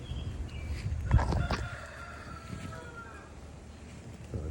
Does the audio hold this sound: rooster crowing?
yes